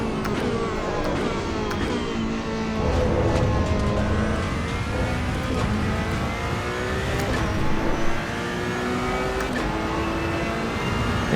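A Ferrari 488 Challenge Evo race car in the Assetto Corsa Evo video game, driven on the Nürburgring, revs hard and accelerates, its engine note climbing steadily and loud with no talk over it.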